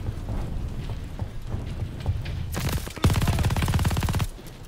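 Rapid automatic gunfire in the Call of Duty: Vanguard campaign during a tank fight, building from scattered shots into dense, loud machine-gun bursts that rattle steadily before cutting off.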